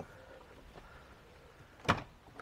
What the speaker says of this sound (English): let me open the door so you get a good view of what's on the back end